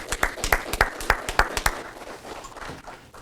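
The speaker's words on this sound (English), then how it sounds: "Let's clap it up for Dr. Robinson." A few sharp, evenly spaced handclaps greet Dr. Robinson at an Akron school district football media day gathering. They ring out close and distinct for under two seconds, then thin out into quieter scattered clapping.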